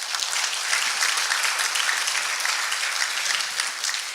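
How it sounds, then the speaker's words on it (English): Audience applause at a chamber of commerce industry panel event: dense, steady clapping from a sizable crowd, continuous and even throughout with no voices over it. "Let's give him a round of applause."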